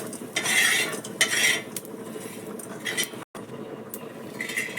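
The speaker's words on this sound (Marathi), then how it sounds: "हे धने जिरे हे पण आपण असे भाजून घेऊया" Coriander and cumin seeds roast in a pan with a little oil, stirred with a metal utensil that clinks and scrapes close by in irregular bursts, with no talking.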